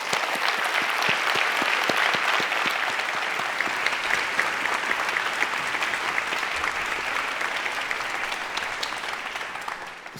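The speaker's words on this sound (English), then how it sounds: "A round of applause for Jeff" A forum audience claps in a steady, continuous round of applause, a dense, even patter of many hands that holds evenly for about ten seconds before easing off at the end.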